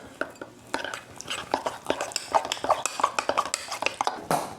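A spoon stirs creatine drink mix in a cup, giving a quick run of light, irregular clinks and scrapes, close by with no talk.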